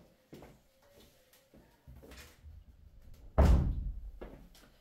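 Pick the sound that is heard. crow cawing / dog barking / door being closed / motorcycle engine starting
door being closed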